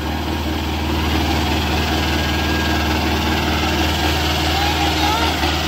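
A Farmtrac tractor engine runs at a tractor pulling contest, a loud, steady low diesel drone with constant vibration, while a voice talks over it.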